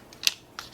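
Stiffened, Tylose-treated fondant being cut for the back of a sugar high-heel shoe sole: two or three quick, crisp snips close by, quiet between cuts and without talk.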